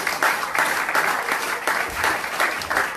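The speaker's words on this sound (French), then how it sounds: "Nous acclamons le Seigneur." Church congregation clapping and cheering in waves of loud applause, several swells of rhythmic clapping filling the hall without pause.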